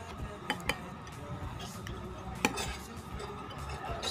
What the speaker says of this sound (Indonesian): kita aduk ya